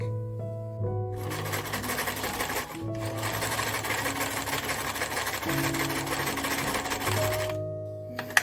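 A sewing machine runs in steady bursts while stitching a zigzag to secure elastic on a beach cover-up, with short pauses between runs and no talking.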